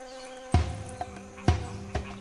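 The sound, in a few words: wasps reaching frog eggs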